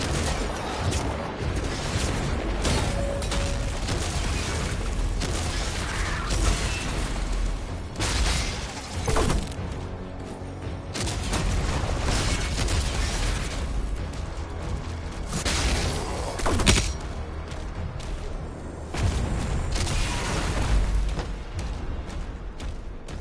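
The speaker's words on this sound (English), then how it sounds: "Just gotta hit people directly with grenades." Grenade blasts in a shotgun-focused shooter game, repeated booms and bursts with scattered gunfire over a steady loud mix of combat noise, lasting more than twenty seconds.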